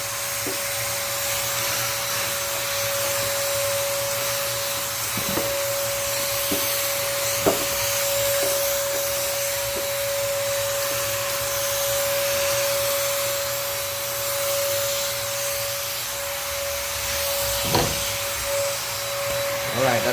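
Steady hissing spray of a finish coat onto a mesquite wooden bowl runs continuously, close and constant, with a few faint knocks and clicks scattered through it.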